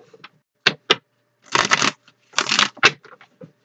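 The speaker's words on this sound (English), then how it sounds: "Let me just do a couple quick shuffles here." Tarot cards being shuffled a couple of times quickly, heard as short crisp riffling bursts with two longer dense runs of flicking, close and clear with no talking.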